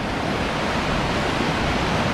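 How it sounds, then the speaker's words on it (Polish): A river in Oregon rushes past in a steady, loud broadband wash of flowing water, unbroken and even throughout, with no voices over it. "Zobaczcie jaka fajna rzeka."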